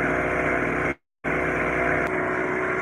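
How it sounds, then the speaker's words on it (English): A small 800-watt two-cycle generator runs with a steady, droning buzz that cuts out for a moment before carrying on, close and fairly loud, with no talking. "all right, sorry about that. That's the generator."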